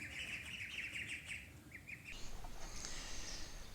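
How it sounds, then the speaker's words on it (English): A flock of about thirty-two ducklings on a homestead, peeping in rapid high chirps that crowd together, then thin into scattered calls over a steady low background hum. "So what's better than having 2 ducks? Having 32 duckies. Look at all the ducks."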